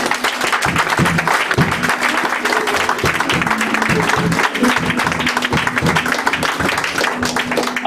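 A church congregation applauding in steady, dense clapping that carries on without a break, loud and close, with a low hum of crowd noise underneath.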